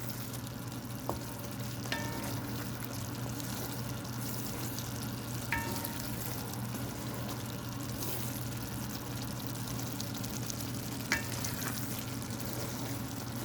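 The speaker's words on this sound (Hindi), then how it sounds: "अब हम इसको इतनी भुनाई करेंगे जब तक ये अपना इसका ऑयल जो है वो ऊपर नहीं आ जाता" Goat brain masala frying and being stirred in oil in a pan, a steady close sizzle throughout with occasional scrape and clink of the spoon, no talking.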